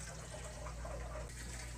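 Water rushes steadily into a camper's water tank, a continuous close hiss of filling with no break.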